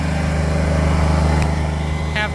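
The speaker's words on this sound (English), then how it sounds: "Requires the generator to run." A generator runs steadily at a site where a wind tower is being assembled, a loud continuous engine drone with a brief sharp click and a short squeak near the end.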